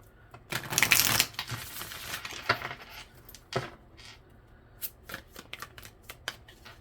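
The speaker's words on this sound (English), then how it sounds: "Give it one more shuffle." A tarot deck gets one last shuffle: a loud, close burst of riffling and flicking, then scattered soft card snaps and slides as the cards settle, without any talking.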